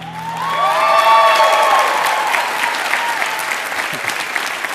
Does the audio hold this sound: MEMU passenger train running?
no